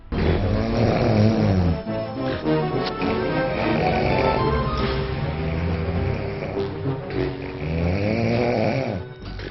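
A person snores loudly and steadily in a room, a rough rasping breath that swells in long repeated cycles with a brief pause near the start, close and alone without talk.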